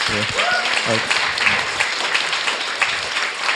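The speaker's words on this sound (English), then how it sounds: "please join me in giving a round of applause" A brief voice gives way to sustained applause from a forum audience at a panel conversation, an even, hissing roar of many hands that holds steady throughout.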